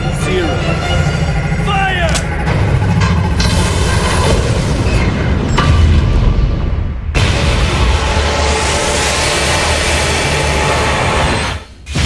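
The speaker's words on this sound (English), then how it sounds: "Bridge crew, ready to fire. Brace for the flash and recoil." A battleship's energy cannon fires in the film Space Battleship Yamato (2010) with a flash and recoil: a sustained rumbling charge with speech over it, then a sudden massive roaring blast that booms on loudly before cutting off.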